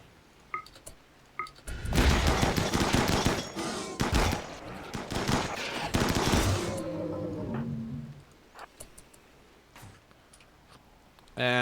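A volley of gunfire in a colony-building video game, rapid crackling shots bursting densely over several seconds, then tapering into scattered clicks and ticks with quiet gaps.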